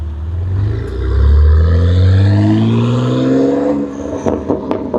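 A BMW G80 M3 fitted with an IRL 4-inch modular midpipe revs hard, its exhaust climbing in pitch through a sustained rise before dropping off into a few short, crackling blips near the end, loud and close with no talk.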